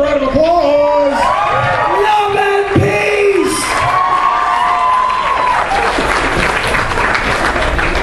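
A crowd at a convention costume contest claps and cheers loudly; whoops and shouted voices ride over the clapping early on, then the sound settles into dense, sustained applause.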